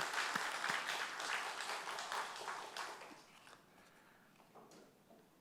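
A congregation at Pyeongan Methodist Church claps together after a special hymn, a dense, steady patter of many hands that gradually thins and fades toward the end, moderately quiet overall.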